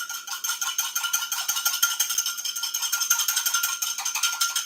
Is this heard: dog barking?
no